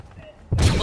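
Gunfire erupts in Fortnite as the player is hit, a sudden loud burst of dense shots and impacts after a quieter lead-in, with voices talking underneath.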